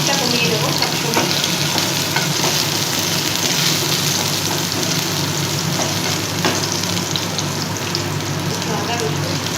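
Ginger and garlic frying in a pan over low heat for egg chilli, a loud, dense, continuous sizzle that stays even throughout with faint stirring crackles.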